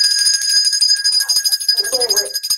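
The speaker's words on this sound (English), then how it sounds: "now we have Ed Norton's bell from the Honeymooners." Ed Norton's bell sound effect from the sitcom The Honeymooners: a bright, sustained ringing tone that holds steady throughout, with a brief murmur of voice near the end.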